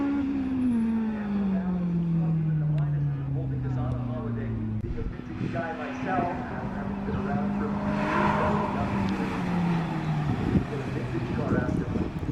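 Cars blasting off at an SCCA time trial at Thompson: engines rev and climb in pitch through the gears one after another, moderately distant, with someone talking over the run.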